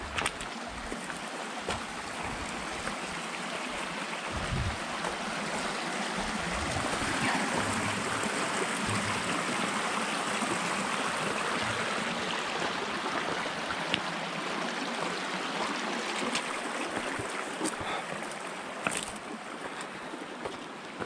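A creek flows beside the Hermit Trail in the Grand Canyon, a steady close rushing and trickling of water that continues unbroken, with faint footsteps and brushing sounds beneath it and no speech.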